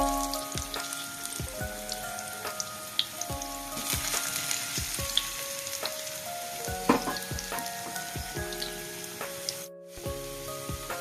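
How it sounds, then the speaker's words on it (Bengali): Potatoes frying in oil over a raised flame, a constant crackling sizzle with scattered pops and occasional spatula knocks against the pan. "এবার আলুগুলোকে একটু হালকা গোল্ডেন করে আমি ভেজে নেব, বেশি লাল করার দরকার নেই।"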